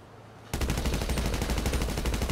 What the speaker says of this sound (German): Ich schieß die Leute ab.